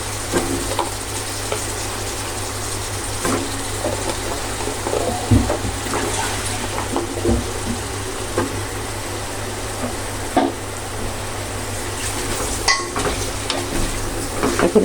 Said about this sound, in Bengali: এখন আমি সাথে বেগুনটা দিয়ে দিব।